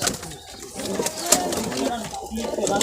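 Pigeons coo softly at a railway station, their low throaty calls mixing with people talking over them.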